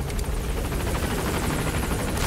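A helicopter in Metal Gear Solid V arrives as a steady, close rotor drone with broad low rumble and thudding blade wash, continuous and loud across the whole stretch with no talk.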